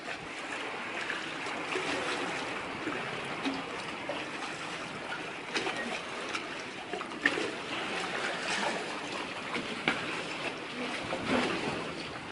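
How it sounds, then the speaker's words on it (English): Gentle water laps and sloshes steadily against a barge hull, a soft continuous wash with occasional small splashes and no voices. "the waves off the barge were soothing and relaxing"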